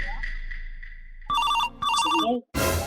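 A telephone rings in short repeated electronic bursts, clear and close, after a brief tonal lead-in, with no talking over it.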